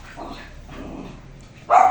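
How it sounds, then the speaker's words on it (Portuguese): Agitated dogs: after a stretch of faint, muffled background, a single loud bark comes at the end, fairly near. "os cachorros estão muito agitados"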